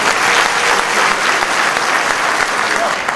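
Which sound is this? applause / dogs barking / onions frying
applause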